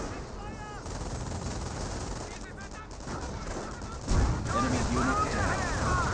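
Gunfire rattles against a base in the World War II strategy game Company of Heroes 1, with bursts of machine-gun fire and battle noise blending into a dense, continuous din, joined by a louder impact near the end.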